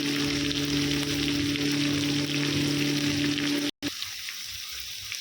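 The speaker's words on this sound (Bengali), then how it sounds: "ভাজা হচ্ছে চিলি চিকেনের পেঁয়াজ আর ক্যাপসিকাম, সবুজ ক্যাপসিকাম।" Onion and green capsicum frying in a pan for chilli chicken, a steady broadband sizzle with a constant hum, broken by a brief cut near the end, after which a quieter hiss continues.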